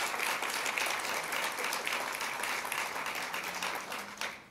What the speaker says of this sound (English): Let's give him a big round of applause for 45 years.